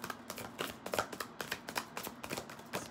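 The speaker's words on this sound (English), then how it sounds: "So let me pull 3 cards." Tarot cards shuffled and pulled by hand, a steady run of soft riffling and snapping card flicks at close range with no talking.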